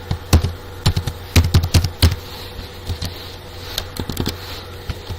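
Clicky keystrokes on a computer keyboard come in quick irregular bursts, close and crisp, with short pauses between runs of typing and no voice over them.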